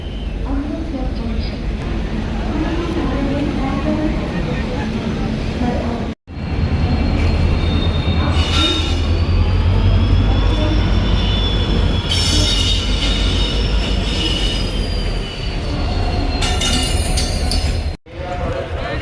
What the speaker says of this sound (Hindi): ये ट्रेन खुल चुकी है, अब अपनी ट्रेन आएगी यहाँ पे